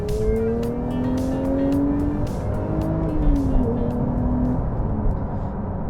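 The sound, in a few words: Porsche 992 GT3 manual car driving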